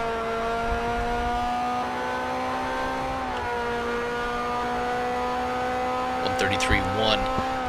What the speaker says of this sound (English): Back onto the throttle before the hanger straight here